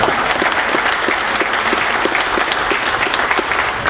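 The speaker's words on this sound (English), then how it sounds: "You can applaud." Audience at a Laurel Town Center groundbreaking ceremony claps in a steady, dense round of applause, moderately loud and continuous with no voices over it.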